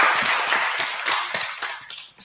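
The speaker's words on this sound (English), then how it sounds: "let's give ourselves and the organizers" A short burst of applause closes a quiz competition final, with participants and organizers clapping. The claps come in a quick, fairly close patter that thins out and fades within a couple of seconds.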